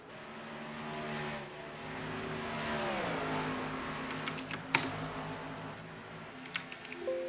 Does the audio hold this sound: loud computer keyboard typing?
yes